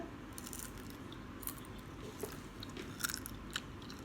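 Quiet chewing and crunching on edible insects, with soft bites and a few sharper crunchy clicks spread over a few seconds, close to the mic under low background noise.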